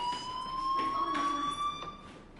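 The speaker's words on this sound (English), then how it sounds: "Hey, do you hear that fire alarm?" A fire alarm rings in the video game Life is Strange, a steady electronic tone with pulsing overtones, moderately loud and continuous for a couple of seconds.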